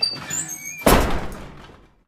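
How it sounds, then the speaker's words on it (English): An apartment door closes: a faint creak, then a sharp, solid thud that rings out and fades over about a second, close and alone without talk. "walked out of her apartment, closing the door on her way out"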